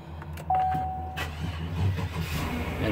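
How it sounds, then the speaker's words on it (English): A car engine cranks and fires up after a boost from a lithium jump starter, settling into a steady mid-pitched running rumble, fairly close and moderately loud. "And the car just fired up"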